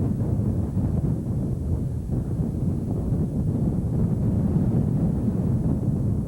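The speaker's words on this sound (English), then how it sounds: "I can hear the engine." A small airplane's engine drones steadily in flight during a landing approach, a low, continuous rumble mixed with wind noise and no voices.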